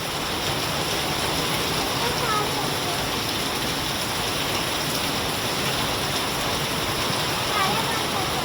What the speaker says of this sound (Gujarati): પાછો ધોધમાર વરસાદ ચાલુ થઈ ગયો